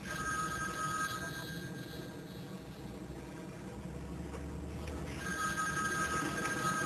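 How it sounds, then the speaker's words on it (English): A telephone ringing steadily in a quiet room, a sustained electronic ring that pauses briefly and then resumes, heard alone over a faint low background hum. "Aren't you going to answer the phone?"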